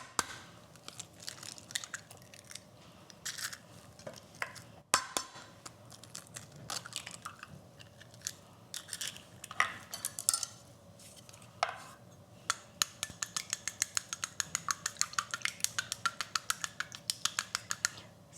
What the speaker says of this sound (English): Now you want to crack this and gently whisk it.